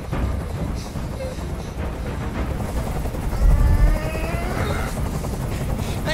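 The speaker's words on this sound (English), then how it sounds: "I can't stand that noise anymore. Tell that helicopter to get out of here." A helicopter's rotor and engine drone fills the scene with steady, broad noise, growing heavier and thumping briefly near the middle before settling back to a constant roar.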